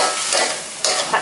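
Kimchi and bacon are stir-fried over high heat, giving a steady loud sizzle broken by brief scraping stirs of the spatula in the pan.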